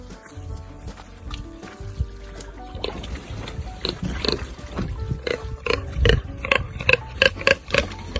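Pigs wade into water on an off-grid farm in Portugal during a heatwave, with splashing and sloshing building as they enter, mixed with grunts and snorts, growing busier and nearer toward the end.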